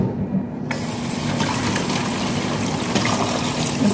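Tap water runs steadily into a bowl while tapioca pearls are washed, a continuous close splashing trickle that starts abruptly and carries on with small surges.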